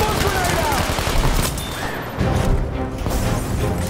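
MP28 submachine gun in the video game Battlefield 5, rapid bursts of automatic fire amid battle clatter, with someone talking over the shooting.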